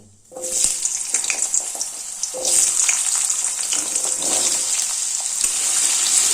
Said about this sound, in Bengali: এবার এই আলুটা তেলে দিয়ে দেবো